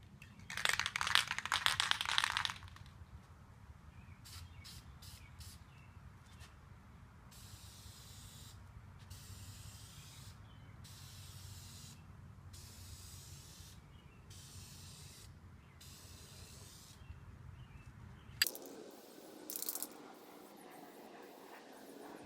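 VHT Nightshade aerosol tint paint hisses out in two short spray bursts onto car taillights, one at the start and one near the end, with a long quiet stretch of low background between them.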